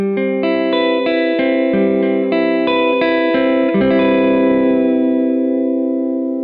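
A clean electric guitar chord is strummed repeatedly through a Strymon Blue Sky reverb pedal, each strum ringing out into a smooth, lingering wash of reverb that fades gently at the end.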